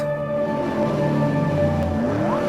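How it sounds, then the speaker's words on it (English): Car engine revving steadily, a continuous droning roar with pitch swelling and sliding upward near the end, heard alone at fairly close range. "The sound of motors revving."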